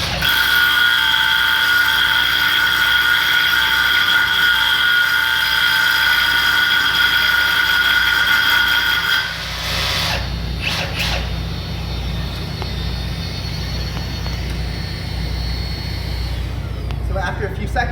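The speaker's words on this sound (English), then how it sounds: "as you start to press and drill overhead, the vacuum will turn on automatically and begin to collect the dust" A Milwaukee SDS Plus hammer drill bores overhead with its auto-on dust extraction vacuum running. The loud, steady whine and drone continue without a break, and the pitch shifts partway through while the vacuum keeps humming.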